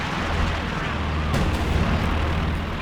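Howitzer barrage rumbling in a Company of Heroes 2 match, a dense, continuous low roar of distant artillery impacts with a sharper burst near the middle, heavy and unbroken throughout.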